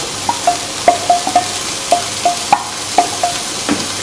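Onions fry in a little oil in a non-stick pan, a steady sizzle under repeated sharp taps and scrapes of a utensil stirring them, close and fairly loud.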